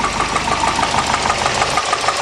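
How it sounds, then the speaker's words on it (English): A Volvo turbo car engine runs steadily after a makeshift radiator hose repair, with a loud, close, rough idle and a rhythmic knocking pulse beneath it. "Engine doesn't sound so bad after a lot of abuse."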